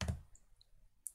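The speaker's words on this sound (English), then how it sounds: "Click off, that will take effect" Computer mouse clicks while working in FreeCAD: a quiet click at the start, followed by a couple of faint, brief ticks in near silence.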